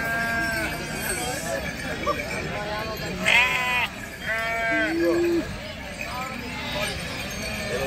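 Sheep at the Macherla sheep and cattle market bleat several times, some calls loud and close, over a steady crowd murmur with voices talking throughout.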